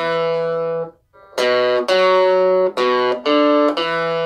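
Electric guitar playing the last section of the riff, a run of bright, distorted sustained notes with a short pause near the start, then picked in a steady rhythmic sequence, loud and close with no voices.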